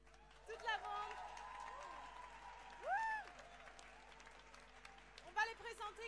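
An audience in Paris applauds and cheers a band with whistles and whoops, while a voice talks over the clapping.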